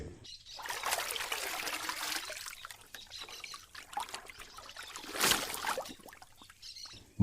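Water splashes and trickles in uneven bursts as a face is washed at a pond, with a louder splash near the end and quiet pauses between; no one speaks.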